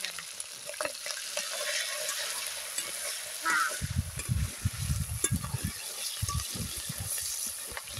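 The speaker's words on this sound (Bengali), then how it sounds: "চিংড়ি দিয়ে কুমড়া রান্না হবে।" Prawns and pumpkin cooking in a pan, with bursts of stirring and a low frying sizzle that picks up partway through, close by and moderately loud over steady kitchen background noise.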